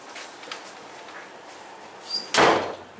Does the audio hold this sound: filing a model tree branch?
no